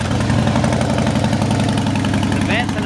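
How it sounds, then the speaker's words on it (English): A 2003 Harley-Davidson Night Train 100th anniversary motorcycle idles through Vance and Hines exhaust pipes with a loud, deep, steady lumpy rumble, recorded close. A voice briefly joins near the end. "The Vance and Hines pipe sound fantastic."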